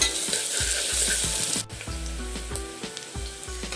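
Halved boiled eggs sizzle hard in a separate pan with salt, chili and turmeric for egg biryani, a loud steady frying hiss broken by repeated metallic clinks of stirring.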